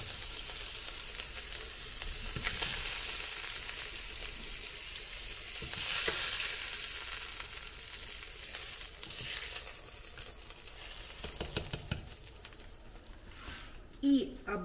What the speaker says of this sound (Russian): Так, теперь чуть-чуть обжарим колбаски.